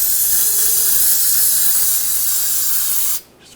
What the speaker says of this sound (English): Now we'll just clean this up with a little brake parts cleaner.